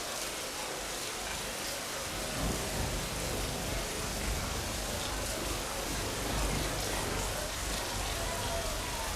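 Steady rain falling in an Indonesian-dubbed Islamic drama series about the Prophet Yusuf, a dense continuous hiss of downpour with a faint low rumble, evenly loud throughout.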